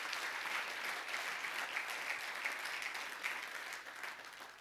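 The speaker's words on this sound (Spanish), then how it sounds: "Dele fuerte el aplauso al Señor." A church congregation applauding together, a dense, sustained wash of clapping that holds steady for several seconds before gradually tapering off, heard at some distance.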